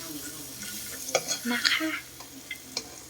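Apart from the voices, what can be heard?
roasting crickets in a little oil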